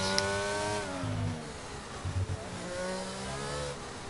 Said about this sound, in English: that gearbox is not sounding that great now after him putting it in full revs